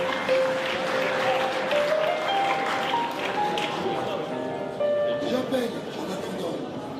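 Audience applauding at a Paris art show, a steady wash of clapping hands that fills the space, with a voice talking over it and a few sustained tones ringing through.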